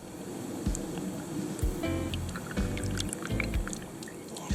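Honda HP coolant is poured slowly during maintenance on a Honda NC700/NC750 or CB500X motorcycle, giving quiet, intermittent gurgling glugs close to the microphone, with no talk.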